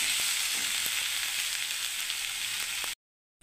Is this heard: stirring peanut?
yes